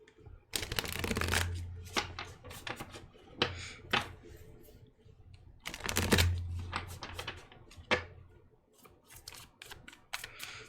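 Tarot cards being shuffled by hand, crisp riffling bursts in two main rounds with scattered softer flicks and taps between, close and fairly quiet with no talking.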